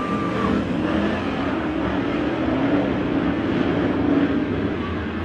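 Race cars charge up the final turn at Emo Speedway during the Emo Fall Fair Rae Memorial, a steady, dense engine roar from a distance that holds throughout with no talking.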